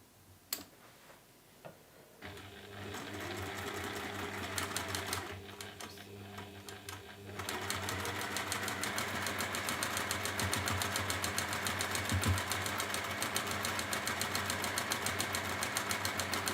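A sewing machine chain-pieces quilt seams in a rapid, steady ticking run that starts after a few isolated clicks and grows louder and more continuous, heard close with no talking.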